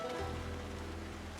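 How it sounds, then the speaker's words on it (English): Steady rain falls in the video game Bomboid, a soft continuous hiss that stays even and unbroken throughout with no voices over it. "It's been raining a lot."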